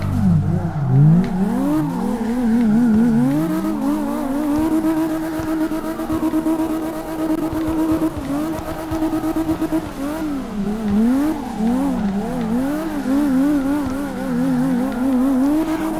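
Engine of a BMW E34 M5 tuned to 900 HP, drifting in CarX Drift Racing Online, revving and wavering continuously at high pitch with loud, sustained rises and falls throughout, no talk over it.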